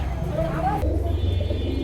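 A close pigeon coos softly in a short, low murmur of notes while a person talks over it.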